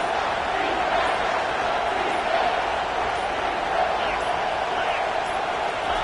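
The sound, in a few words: football stadium crowd cheering for the defense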